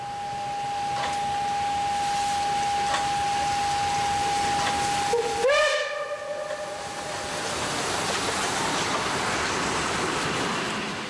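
A steam locomotive, class 23, approaches with rumbling wheels and a long steady whistle, then a sharp horn blast as it passes close, followed by a lingering rushing roar.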